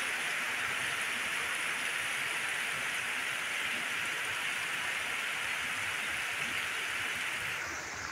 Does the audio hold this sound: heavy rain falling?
yes